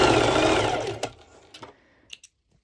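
A sewing machine runs a straight stitch on mesh Lycra, giving a close whirring run that winds down after about a second, followed by a few small clicks and taps.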